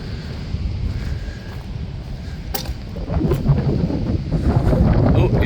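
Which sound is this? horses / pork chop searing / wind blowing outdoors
wind blowing outdoors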